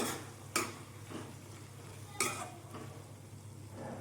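A utensil scrapes and clinks against a pan while green pea and potato kurma sizzles softly underneath, with a couple of sharper metallic taps.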